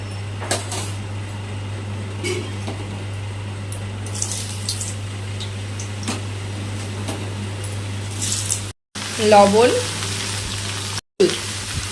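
Papaya pieces fry in hot oil with salt and turmeric, giving a steady close sizzle over a low constant hum, with a few brief clatters and two short cut-outs near the end.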